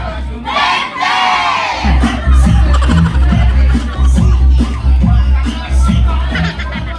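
A large crowd at a political rally in the Philippines shouting and cheering together, loud and sustained, with rhythmic bursts of chanting rising over a steady low rumble.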